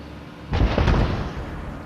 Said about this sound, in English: we continue to hear these loud booms. We're told these might be propane tank explosions out here.